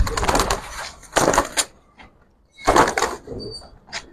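Giribaj pigeons in a loft give bursts of wing flutter and scuffling, with a few faint coos and soft knocks between the louder flurries, all close by and without talk.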